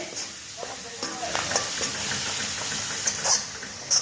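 Garlic fries in oil for a flattened rice snack, giving a continuous close sizzle and hiss with occasional spatula scrapes and a few brief pops.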